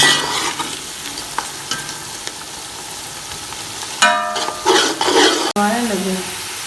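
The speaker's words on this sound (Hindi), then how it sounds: "दूसरी साइड पे हो रहे हैं प्याज ब्राउन।" Onions fry and brown in a pan with a continuous close sizzle, joined later by clinking and scraping of utensils against the pan and a sharp knock near the end.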